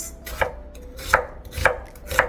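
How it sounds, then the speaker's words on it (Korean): A knife chops an onion on a cutting board with four crisp, evenly spaced strikes, close and clear against a quiet kitchen background. "양파부터 먼저 썰겠습니다."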